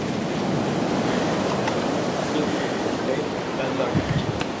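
Waves crashing and water falling over a rocky shore on Nuku Hiva, a loud continuous wash of surf with wind buffeting the microphone and faint voices briefly audible.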